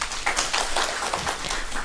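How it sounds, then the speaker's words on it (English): Steady applause from an audience at a policy and governance plenary session on agroecology, a continuous dense patter of many hands clapping at moderate level with no break across the clip. "let's give them a loud of applause."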